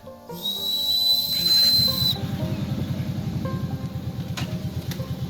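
A shrill handmade willow branch whistle blows one long high note for about two seconds, then cuts off, leaving a rapid low rattling sound that continues afterward.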